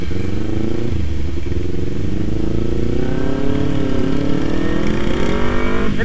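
A Kawasaki Z250 motorcycle engine drones loudly while riding, its revs climbing steadily with a buzzy rasp and wind rush, close and continuous.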